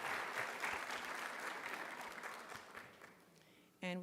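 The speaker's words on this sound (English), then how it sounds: "we will give her a round of applause for what she has done" An audience at a physician assistant program white coat ceremony gives a round of applause, broad sustained clapping that slowly fades, then a single voice begins speaking at the very end.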